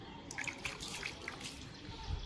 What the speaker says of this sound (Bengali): ভালো করে আগে পা ধুয়ে দেবো।